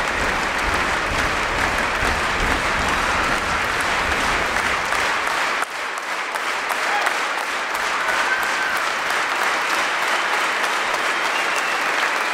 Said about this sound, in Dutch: Maar het applaus is zo ontzettend hard.